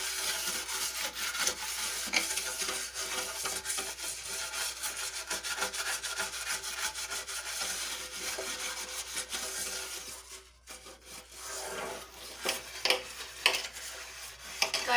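A gas stove is scrubbed clean by hand, giving a quiet, continuous rubbing and scraping close by that pauses briefly partway through, then resumes with a few sharper scuffs.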